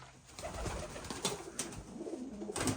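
Pigeons coo softly and repeatedly in a loft, a low murmuring chorus with light fluttering and scuffling in the background.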